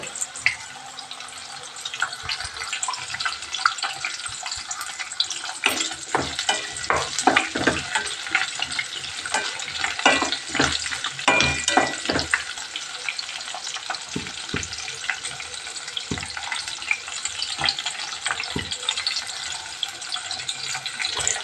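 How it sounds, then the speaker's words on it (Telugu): Onions and green chillies frying in a pan, a continuous crackling sizzle with bursts of stirring and scraping, close and steady throughout. "ఆనియన్స్ వేసుకుందాం. ఇంకా గ్రీన్ చిల్లీస్ కూడా."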